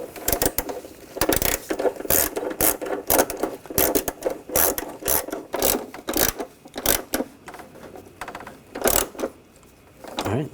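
Rapid ratchet clicks in quick bursts, close up, as a ratchet wrench tightens the starter bolts on a 2004-2012 Chevrolet Colorado 3.7L, with short pauses between strokes and no talking.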